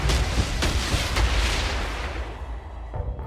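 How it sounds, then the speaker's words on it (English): Missile launches and explosions in the space strategy game Stardrive, a dense barrage of booming blasts and sharp impacts rumbling continuously, loud and close, with no talking. "those missiles actually really hurt"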